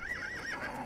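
Horse neighing in an Elder Scrolls game set in Tamriel, a brief wavering whinny rising and falling, quiet and alone, lasting under a second.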